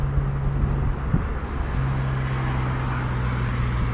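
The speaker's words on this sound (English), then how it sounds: "S52s do not like to rev when they're cold, so we're gonna let this guy warm up some" A BMW S52 engine idling cold while it warms up, a steady low rumble with a constant hum underneath, continuous and fairly close, no talking.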